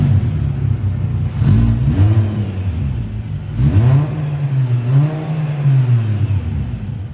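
A modified car engine with a new exhaust cut in before the catalytic converter revs repeatedly through a loud, throaty exhaust, the pitch rising and falling in several surges over a steady rumbling idle, in a parking garage.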